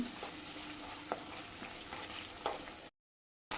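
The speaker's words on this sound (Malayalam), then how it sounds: "ഇനി നമ്മൾ ഇതിലേക്ക് ഇട്ട് കൊടുക്കാൻ പോകുന്നത് ക്യാപ്സിക്കം കട്ട് ചെയ്ത് വെച്ചേക്കുന്നതാണ് ഒന്നുകൂടി സോട്ട് ചെയ്തെടുക്കണം" Cut capsicum sautéing in oil in a pan for restaurant-style chilli gobi, a steady soft sizzle with a few light clinks of stirring, quiet and close, cutting out briefly near the end.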